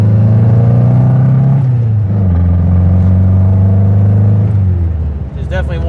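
Modified classic Volkswagen Beetle engine pulling loud and close while driving, a steady droning rumble that rises in pitch, dips at a gear change, climbs again, then drops off near the end.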